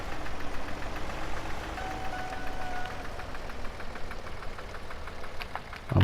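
A tractor engine idles steadily in Farming Simulator 17, a continuous mid-low rumble with a faint rhythmic knock that stays fairly loud and even throughout, with no talking.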